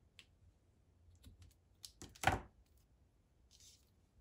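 Scissors snip crochet yarn close to the work, heard as a few faint clicks followed by one sharper, louder cut in an otherwise quiet room.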